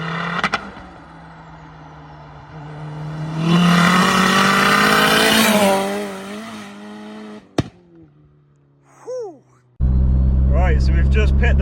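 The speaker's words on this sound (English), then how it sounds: "But the sounds this car makes, oh my god" A modified 552bhp Vauxhall Astra VXR revs loudly up close, its engine note climbing and wavering through several surges and flat-foot shifts, with a sharp crack and short bursts before a final loud roar.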